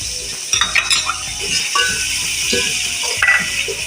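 Pulao ingredients with yogurt frying in a pan in a Hyderabadi chana pulao recipe, a steady sizzle with repeated scraping and clinking of a spoon stirring against the metal pan, close and fairly loud.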